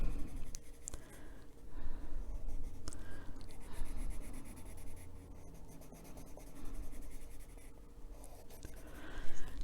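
Inktense colour pencil in vivid green scratches and shades across paper in steady continuous strokes, with a close, dry rubbing texture that rises and falls with each pass of the pencil.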